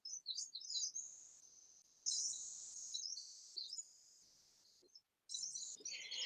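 Small birds chirp and sing in trees outdoors, faint and distant, in bright repeated bursts with short pauses between phrases.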